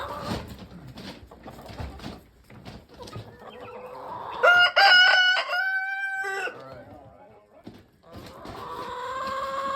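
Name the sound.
rooster crowing and chickens clucking in a coop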